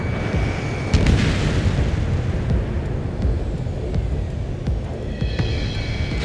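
A deep rumbling explosion as an enemy transport is destroyed in the combat flight game Ace Combat 7, a sustained loud low roar with a sharper burst near the start and crackling debris toward the end.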